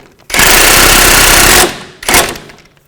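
An impact wrench rattles on a strut assembly nut of a 2005-2010 Chevy Cobalt, one loud sustained burst of about a second and a half, then a shorter second burst.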